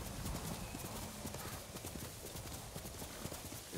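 Horse hooves clip-clop in a quick, steady rhythm in Ghost of Tsushima, the close, regular clatter running continuously through the stretch with a faint whinny in the mix.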